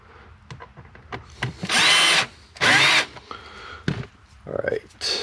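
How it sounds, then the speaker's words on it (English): A power screwdriver drives a screw through a car AC vent into the mode servo of a Lexus IS300, with two short bursts of whirring amid clicks and handling noises up close. "there's a screw that actually goes through the vent, through the servo. So we'll go ahead and put that in"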